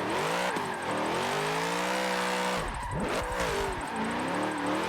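Drifting car in Forza Motorsport, clutch-kicked and tuned, engine revving hard and continuously, pitch rising and sweeping with a brief dip and recovery mid-way, loud and close with no talk.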